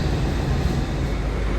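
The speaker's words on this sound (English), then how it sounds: "Doors opening on the left." Washington Metro train at Franconia-Springfield station, a steady low rumble and hum of the railcar at rest as its doors open, loud and continuous with no talk.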